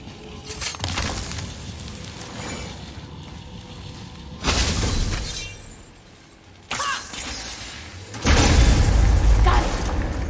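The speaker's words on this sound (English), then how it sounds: "I will never get tired of shattering things with this." Objects shatter and burst in God of War, three heavy crashing impacts with debris spread over several seconds, loud and close over steady game ambience.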